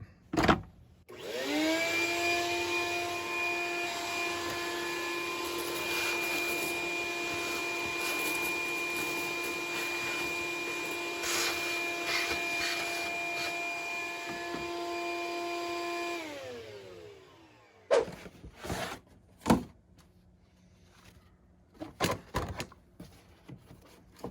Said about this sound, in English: I'm gonna have to vacuum that out.